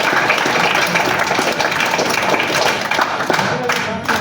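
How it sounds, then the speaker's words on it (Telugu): Children applauding together in a school hostel during an inspection visit, a dense steady patter of many hands filling the room with voices mixed in. "క్లాప్స్ కొట్టండి అందరు"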